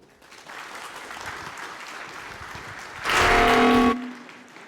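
A tech conference audience at 38C3 bursts into a short, dense round of clapping that lasts about a second, following a quieter stretch of room murmur.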